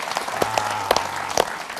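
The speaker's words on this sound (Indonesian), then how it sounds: "Kita beri tepuk tangan untuk UNESA." Scattered applause rises for a university, UNESA, from the audience of an evening television talk programme, heard as sparse, separate claps over a quiet hum rather than a full ovation.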